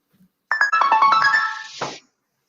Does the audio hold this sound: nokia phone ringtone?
yes